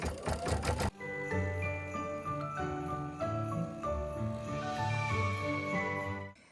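Computerized embroidery machine stitching down background fabric for a Kimberbell nativity stuffie, a steady mechanical whirr with rhythmic needle taps and tonal hum, preceded by a brief rattling burst.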